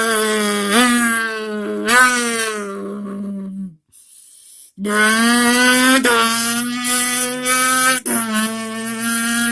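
Someone mimics a sports bike engine with their mouth: loud, high buzzing revs that climb in pitch in quick shifts, break off for a moment of silence, then resume with several more rising gear changes.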